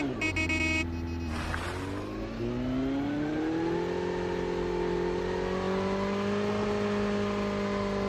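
Motorcycle engine in the Call of Duty Mobile video game, a smooth rising whine as the bike accelerates and then holds a steady droning pitch, loud and alone without talk.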